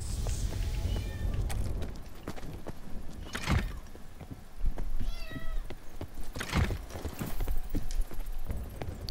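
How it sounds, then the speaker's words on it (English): Short cat meows come twice amid clattering clip-clop steps and scattered knocks, moderately loud in a game setting, no talk. "Stop meowing, Kai."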